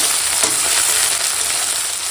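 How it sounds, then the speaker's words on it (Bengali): Onion and chilli sizzle and crackle in hot oil, a loud, bright, steady frying hiss up close with a faint stir near the start. "পেঁয়াজ কাঁচা লঙ্কাটা ভাজা হয়ে গেছে"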